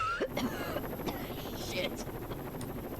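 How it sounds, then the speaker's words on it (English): Combat helicopter in the video game Rainbow Six Vegas 2, a steady rotor drone under game sounds and scattered effects, with voices talking over it. "They have a combat chopper here."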